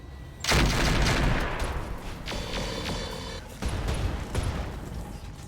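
Mech weapons in the RogueTech video game open fire on a heavy sniper turret: a sudden loud barrage of booming shots that rolls on for a few seconds, then a second heavy burst follows near the end.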